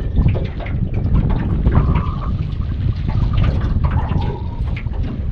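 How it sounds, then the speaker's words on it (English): Strong wind buffeting the microphone outdoors on a boat, a loud continuous rumble with gusty surges and faint water sounds underneath. "It's a little windy"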